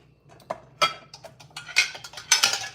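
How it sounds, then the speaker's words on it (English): Kitchen equipment, dishes and utensils clink and clatter while being washed before making a gelatin and coconut cream dessert, a run of sharp, close knocks and scrapes that grow busier toward the end. "let me wash my equipment."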